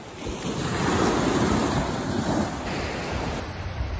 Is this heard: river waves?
yes